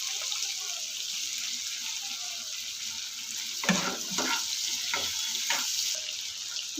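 Prawns fry in a pan with ginger-garlic paste and spices, giving a steady sizzling hiss with a few louder bursts of stirring and scraping near the end, close by and without talk.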